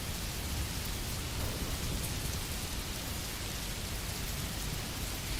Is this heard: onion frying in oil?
no